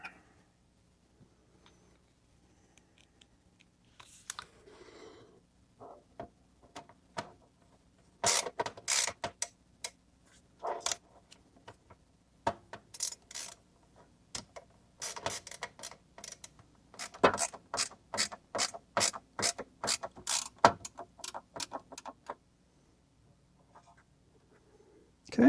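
Small screws driven in by hand during a PC motherboard swap on an ASUS TUF X570 build, heard as bursts of quick, close ratcheting clicks separated by pauses, with faint sparse handling noise in the quiet gaps.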